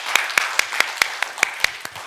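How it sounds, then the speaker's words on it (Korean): Sparse congregation clapping in a church on a harvest thanksgiving Sunday, about ten distinct claps spaced roughly a fifth of a second apart, close and fairly crisp, with no voices over it. "하나님께 영광의 박수 올려드리겠습니다"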